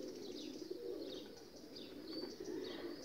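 Pigeons, a sitting bird among them, coo softly and shuffle around their roosting spot in the evening, low murmuring coos running continuously under faint, repeated high chirps, all quiet and with no voices.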